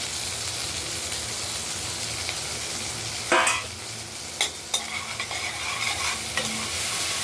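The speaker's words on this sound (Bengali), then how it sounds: "এই ধুয়ে নেওয়া মুগের ডালগুলো এবার আমরা গরম তেলের মধ্যে দিয়ে দিলাম, একটু নাড়াচাড়া করবো।" Washed mung dal fries in hot oil with a soft, constant sizzle, broken by several sharp scraping strokes of a spatula stirring the lentils in the pan, close and fairly quiet with no talk.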